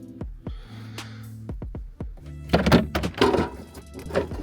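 Underneath a Renault Clio 182 during a shifter swap, several dull metallic thunks ring out as a part drops free, followed by a burst of clattering, rattling handling noise close to the mic.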